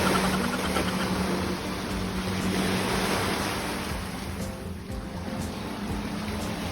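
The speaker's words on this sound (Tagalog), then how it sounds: "kapag nasa sala ka, naririnig mo talaga yung alon ng dagat" Sea waves heard from inside a house near the beach in Iligan, a continuous broad wash of surf at moderate distance, steady with gentle swells and slight wind noise, no talking.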